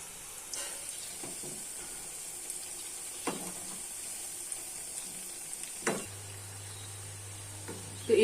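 Cabbage Manchurian balls fry in hot white oil in a wok, giving a faint, steady sizzle with a few soft clinks and taps scattered throughout.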